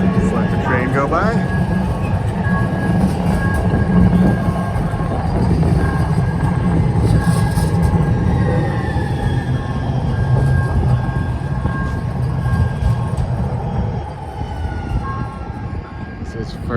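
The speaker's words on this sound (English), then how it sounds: "just let the train go by" A train rumbles loudly past on a downtown Minneapolis street near First Avenue, a long, heavy roar with high squealing and ringing tones over it that eases near the end, with a voice talking beneath it.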